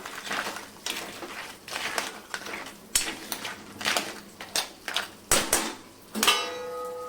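Crab pieces being stir-fried and tossed in a pan for a Maharashtrian chimbori kalvan curry, with irregular scraping, clattering and sizzling bursts at close range, growing sharper toward the end, with no talking.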